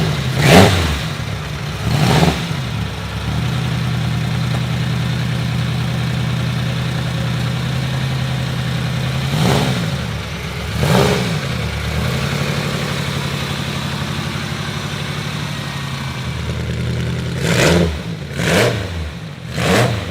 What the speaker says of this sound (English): An inline 8 with a straight pipe.